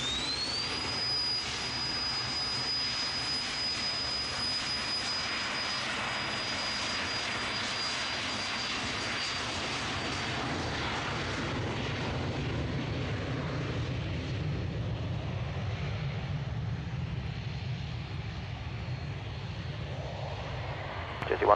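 An airliner takes off from runway 22 left at Manchester Airport, its jet engines building into a loud, sustained roar with a high whining tone at the start that gradually fades as the aircraft departs.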